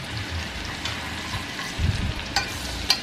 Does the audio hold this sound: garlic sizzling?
yes